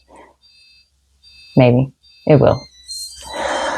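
Electronic beeping from a screen device in the background of a room, a few thin high tones sounding faintly in short bursts around and under a person's talk.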